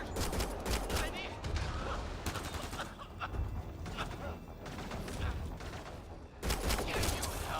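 Gunfire in the video game Mass Effect: Andromeda, a dense run of rapid shots and impacts crackling over a continuous busy battle mix, with a voice cutting in at times.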